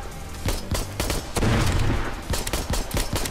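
Arizona Sunshine virtual reality shooter on PSVR, a grenade blast amid a dense barrage of rapid gunfire and booming impacts, loud and close, with repeated sharp cracks before and after a heavier sustained burst.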